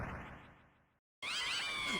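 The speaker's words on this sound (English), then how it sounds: "Oh no, Spamton cats!" Game cats from Deltarune meow in a short burst, cut by a brief silence before a brighter, warbling electronic yowl returns, loud and close.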